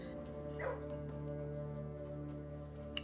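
Dogs in the video game Blue Prince give a short yelp or whimper over a steady droning background hum, faint and brief amid the continuous game ambience.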